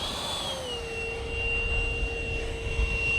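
A Dassault Rafale RC jet with an 80mm electric ducted fan and thrust tubes, producing a loud, steady whining roar with a high tonal pitch that dips slightly early on, then holds constant.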